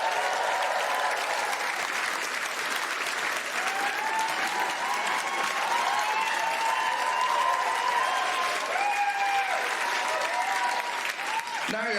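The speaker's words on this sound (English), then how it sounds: "A round of applause, please, for my Pasty Museum" Sustained audience applause at a stand-up comedy show, a dense steady wash of clapping from a large crowd that holds for the full length and fades slightly at the end.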